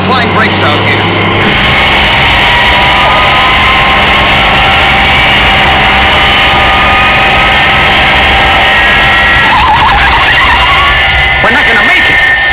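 A Fireflash airliner brakes hard on a runway, giving a loud, continuous skidding screech over heavy engine roar that lasts throughout, with some speech-like sounds mixed in.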